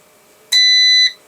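A Forte PS-1024LFP portable power station gives a single loud electronic beep, steady and piercing, holding for about half a second before cutting off, close by in a quiet room.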